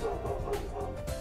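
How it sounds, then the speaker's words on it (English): Video game dogs bark in a short burst of several quick yips, close and moderately loud over a continuous music and background hum. "Dogs are barking."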